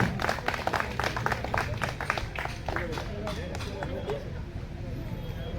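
An audience at an eye check-up camp claps in a burst of quick, dense handclaps that fades after a few seconds, while someone speaks over a microphone.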